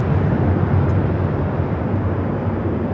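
A Boeing 737-900ER airliner takes off from LAX, giving a dense, constant jet roar that stays loud and even across the whole moment, with no talking.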